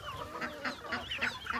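Rooster being chased by a duck in a farmyard, giving a run of about five quick, fairly faint clucks in an uneven rhythm with no other sound over them.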